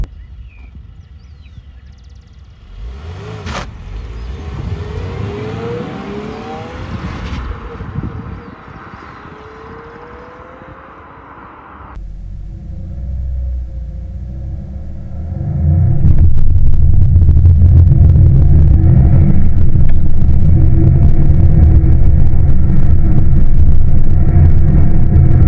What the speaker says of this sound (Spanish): miren el 0 a 100.